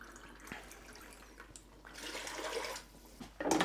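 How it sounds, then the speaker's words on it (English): Water running into and splashing around inside an emptied tomato can during kitchen meal prep, faint at first, then building to louder gushing near the end. "And I'll have to add water anyway, so I'll just use that to rinse out the can."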